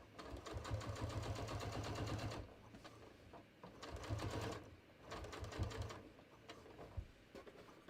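Sewing machine stitching denim on a pair of Frenchie jeans, the presser foot edge guiding the seam: close, loud bursts of rapid rhythmic needle chatter with brief pauses between runs.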